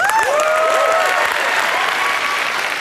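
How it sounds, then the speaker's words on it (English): Loud, close crowd applause in a studio audience setting fills the whole moment, with whoops and a rising cheer layered over the dense clapping. "Clap your hands"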